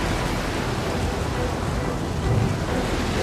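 Thunderstorm at sea in a Hindi audio drama about Jonah, a loud unbroken roar of wind, rain and surf with a low rumble swelling briefly, no voices heard.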